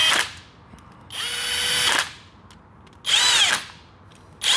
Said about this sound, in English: I don't want to finish these with the impact gun.